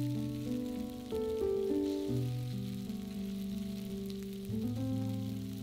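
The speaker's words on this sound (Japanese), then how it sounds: "この時は炒めずに焼き付けるように鶏肉を広げてしばらく置きます。" Chicken breast spread flat and searing undisturbed in a pan for a tomato stew, giving a steady, soft sizzle that stays under louder background music throughout.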